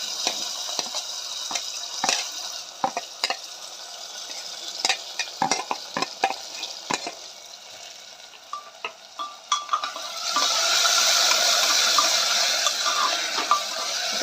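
Potato pieces and chillies sizzle and fry in hot oil while being stirred, steady crackling broken by frequent sharp scraping clicks of the spoon, with the sizzle swelling louder toward the end.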